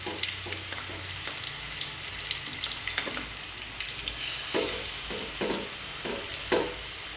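Prawns frying in a pan with a steady sizzle, stirred now and then with sharp clinks and scrapes, close and moderately loud, with no talking.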